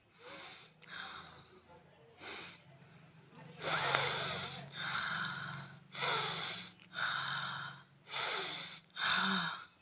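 A child at a doctor's check draws a series of deep, audible breaths, about seven in a row, close to the mic, each a loud rasping gasp with short pauses between.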